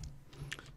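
A few quick, soft keystrokes on a computer keyboard during Minecraft play, faint clicks in close succession with no voice.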